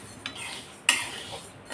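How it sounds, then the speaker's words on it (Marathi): Pearl millet (bajra) grains being dry-roasted in a pan for a masala, with a metal spoon scraping and stirring through them in a few short, quiet strokes, including one sharper clink. "तर आता ही बाजरी छान लाह्या किंवा हलकी फुलकी होईपर्यंत भाजून घेते।"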